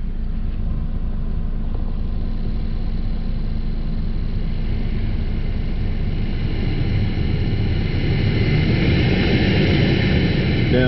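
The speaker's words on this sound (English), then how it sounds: "since the blower motor is working and it's drawing a load" A 2012 Buick Verano's cabin blower motor runs steadily with a constant broadband whoosh and low hum, loud and unbroken for the whole stretch with no talking.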